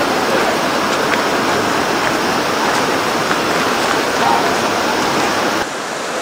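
Steady, loud rush of flowing river water from the middle of the Rayan river at Sittong, a continuous broadband wash with no pauses and no speech.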